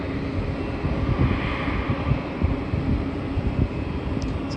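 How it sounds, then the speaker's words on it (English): A Singapore Airlines Airbus A350 airliner passes at night as a faint, distant low jet rumble, steady and soft with a light wind-like hiss. "So that's an Airbus A350."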